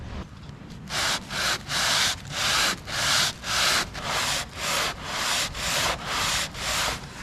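A power sander fitted with a Mirka net abrades a boat deck in about a dozen even, rhythmic back-and-forth strokes, close and loud, with no talking.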